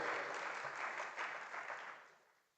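Audience clapping at a Rotary Institute morning session in Kochi, a soft, fairly distant patter of many hands that tapers off over the last second.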